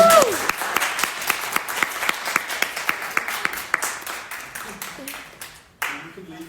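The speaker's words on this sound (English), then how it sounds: "Please another round of applause." An audience at a talk gives a round of applause, steady loud clapping from many hands that gradually thins and fades, with a short cheer at the start and a voice cutting in near the end.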